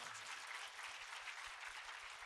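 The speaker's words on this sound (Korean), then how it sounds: "예, 박수하겠습니다." A church congregation applauds with dense, even clapping that stays constant and fairly distant for the whole stretch.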